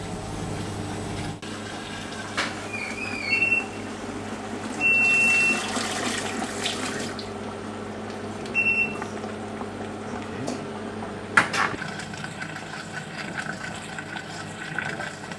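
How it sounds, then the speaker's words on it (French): Yellow wine poured into a Maxichef R151A cooker, which then cooks at 105 degrees: a soft liquid trickle and steady machine hum, broken by a few short electronic beeps and a sharp click. "On va mettre le premier mouillement de vin jaune et on va cuire 5 minutes toujours à 105 degrés."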